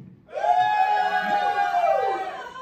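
Comedy club audience at an Always Be Comedy night cheering and whooping after a short quiet start, a loud sustained burst of massed voices with high yells that holds for about two seconds before easing off.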